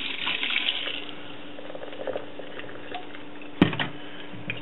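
Water pours out of a hookah base into a sink, a close, steady splashing stream that stays fairly constant, broken by one sharp knock or clunk partway through.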